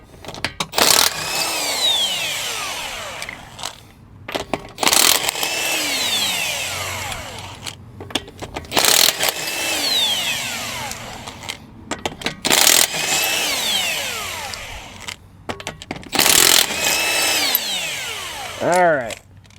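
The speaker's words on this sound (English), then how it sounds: "because we have an impact, it's a 21mm socket, by the way. We can go ahead and rip these off." Impact wrench with a 21mm socket hammers lug nuts off a Hyundai Palisade wheel in a series of loud, rattling bursts of a second or two each, separated by short pauses, up close.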